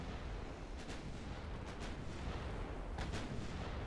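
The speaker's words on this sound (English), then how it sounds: "I can probably go broadside and start wiping out heavy cruisers" Battleship naval guns fire broadsides in the Ultimate Admiral: Dreadnoughts game, heard as several distant, muffled booms that come singly and in close pairs over a low rumbling background.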